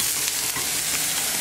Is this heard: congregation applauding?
no